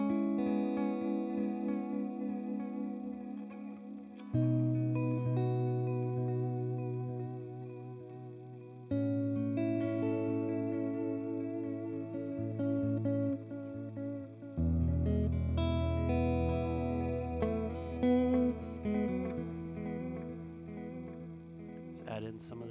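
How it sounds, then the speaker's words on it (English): Electric guitar played through a modulation effect pedal, sustained chords and notes shimmering and wavering in pitch, loud and close with long ringing decays. "let's make the modulation a little calmer."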